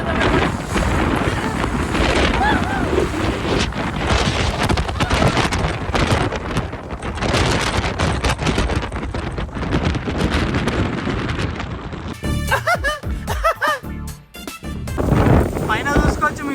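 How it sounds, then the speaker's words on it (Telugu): Outdoors in rainy St Petersburg, Russia, strong wind buffets the microphone in a loud, constant roar, with gusts and rain noise throughout and a sharper rattling burst near the end. "బయట ఏమో వర్షం పడుతుంది"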